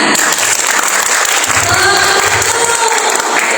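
Participants at a CV workshop during a Magelang job fair clap hands together on cue, a dense burst of crowd clapping over a noisy room, fairly loud with no clear talk.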